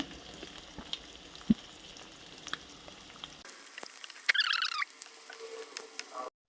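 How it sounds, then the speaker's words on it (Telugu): Onions and green chillies frying in hot oil give a crackling, pattering sizzle near the pan, cutting out halfway, then returning in a short burst of sharp pops. "ఇంట్లో ఒక 2 ఆనియన్స్, పచ్చిమిర్చి వేస్తున్నాను."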